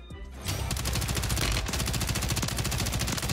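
A Bal rifle in Call of Duty Warzone fires one steady, fast automatic burst, loud and near, starting after a short pause and rattling on without a break to the end.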